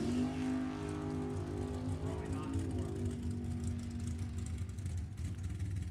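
Drag race cars, including a '73 Camaro, launch down the strip with a loud, sustained engine roar that holds steady under announcer talk.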